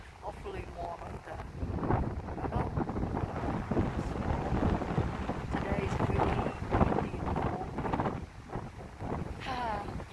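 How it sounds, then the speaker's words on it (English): Cold wind gusts across a snowy snowshoeing trail at Tamarack Resort in Mammoth Lakes, buffeting the microphone with a continuous rumbling roar, while a voice talks faintly underneath. "Pretty cold when the wind is on."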